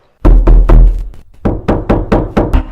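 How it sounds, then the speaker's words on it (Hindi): Loud, close knocking on a door in two groups, three heavy booming thumps followed by a quicker run of about six lighter knocks. "दरवाजे पे किसी ने दस्तक दी।"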